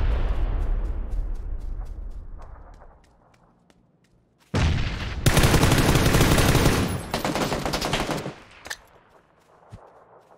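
Rapid bursts of gunfire in a video game, first fading bursts, then a loud, dense stretch of close automatic fire and shots lasting about four seconds, tapering into scattered single shots.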